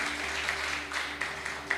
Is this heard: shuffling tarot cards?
no